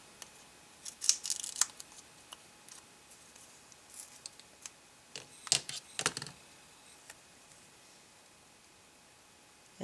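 Scissors cutting a piece of card in a quiet room, a few sharp snips in small clusters at close range, separated by soft rustles and handling sounds.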